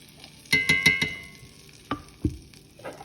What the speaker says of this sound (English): So you're making a roux, basically. This is a sauce.